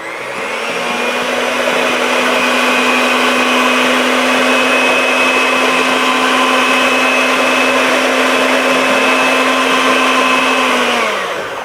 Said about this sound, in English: But I'm gonna start with my electric mixer here.